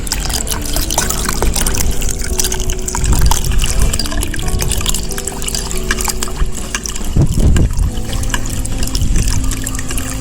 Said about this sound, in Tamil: இப்போ வெல்லத்தில் தண்ணி ஊற்றி கரைக்கிறோம்.